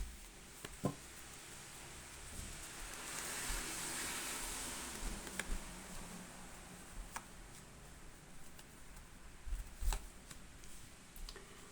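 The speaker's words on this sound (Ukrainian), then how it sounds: "далі я тут вже перетасую, бо дуже багато карт" Soft, irregular tarot card shuffling with scattered light ticks and riffles over a steady hiss, quiet and close, no voices.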